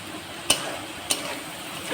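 Drumstick and prawn curry frying in a pan while being stirred, a steady close sizzle broken by two sharp spoon scrapes against the pan.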